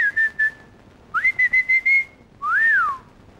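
A person whistles a tune alone and up close: a few short notes, then a quick run of clipped notes, then one long note that rises and falls. The whistling is clear and fairly loud.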